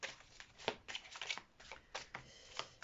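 Tarot cards being shuffled by hand, a quick run of papery riffles and slaps in irregular bursts, close and fairly soft, with no talking.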